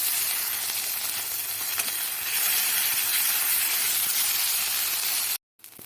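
Drumstick leaf paste frying in a pan gives a steady, loud, close sizzle and hiss that runs without a break and then cuts off abruptly near the end.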